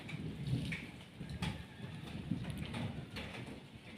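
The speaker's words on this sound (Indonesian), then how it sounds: "Untuk suhu, sekarang masih cukup dingin dikarenakan adanya hujan deras tadi dan sekarang masih gerimis." Light drizzle in a school garden just after heavy rain, heard as a soft, continuous patter with no clear pauses throughout. No one speaks.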